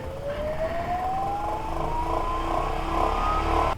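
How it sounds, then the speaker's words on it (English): A Pentair WhisperFlo VST pool pump primes at 3150 RPM, its motor whine climbing steadily in pitch over a constant whirring drone at close range. "And now the pump's going to prime at 3150 RPMs for 5 minutes."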